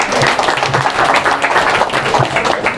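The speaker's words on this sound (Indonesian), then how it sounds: "Saya minta tepuk tangannya dong." Audience applause at a business seminar, a dense, steady wash of many hands clapping at close range, sustained evenly for a few seconds without pauses.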